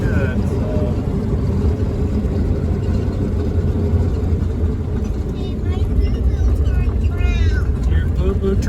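The 304 V8 in an AMC Hornet wagon runs on the move, a steady, loud, low rumble with road noise that holds for nearly nine seconds, and voices surface briefly near the end.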